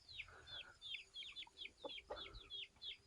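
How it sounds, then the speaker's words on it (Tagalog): Chickens cluck in repeated short bursts on a rural farm, fairly close but faint, with some background rustle and brief voices. "Mga manok."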